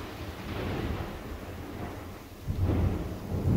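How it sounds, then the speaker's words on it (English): Heavy rain pours down during a Florida lightning storm as thunder rumbles low and continuous, and a louder roll swells near the end, with no voices. "It's lightning and thunder and pouring down raining here in Florida."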